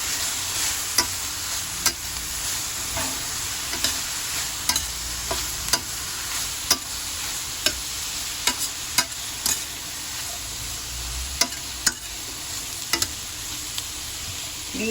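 Onions fry in a pan for a beefsteak dish, with a continuous soft sizzle and regular scraping clicks from a spatula stirring them close by, and no voices.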